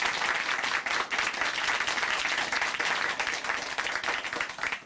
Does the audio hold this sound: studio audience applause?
yes